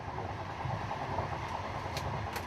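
Train carriage riding the rails on a journey toward the historic site of Ahn Jung-geun's assassination of Ito Hirobumi, giving a steady, continuous rumble with faint clicking and rattling, close and without voices.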